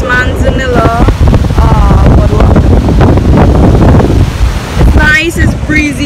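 Breezy wind buffeting the microphone on a beach boardwalk, a loud steady rush of gusty noise with a person talking over it.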